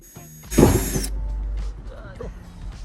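A 5/64 inch bit drills a pilot hole for spiked hood vents on an NB Miata, one short high-pitched whirring burst lasting about half a second, close and loud, followed by quieter handling noise.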